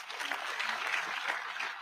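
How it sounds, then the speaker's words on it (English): Quiet, steady applause from a gathered crowd at a Kenyan tribute event, soft overlapping claps heard from a distance with no single hand standing out. "Give them a clap, please"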